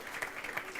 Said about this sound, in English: A big round of applause as well for Richard.